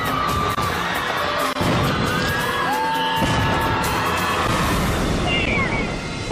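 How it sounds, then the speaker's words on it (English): Fireworks display at a Guy Fawkes Day celebration in Auckland, New Zealand, with sharp bangs and crackles over a large cheering, shouting crowd, dense and loud throughout. "Thousands of spectators are treated to a dazzling fireworks show celebrating Guy Fawkes Day."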